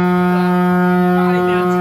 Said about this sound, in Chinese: 等到不耐烦，货车驾驶长按喇叭